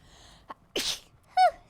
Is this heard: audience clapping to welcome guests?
no